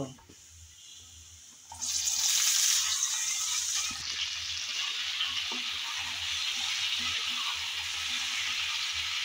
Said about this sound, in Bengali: কচুরলতিগুলো তেলে ভাজার জন্য আমি আগেই দিয়ে দিলাম।